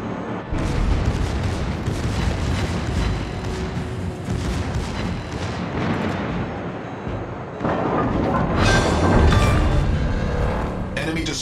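Destroyer blowing up in a naval battle game, heavy booming explosions and rumbling blasts layered continuously, swelling louder toward the end.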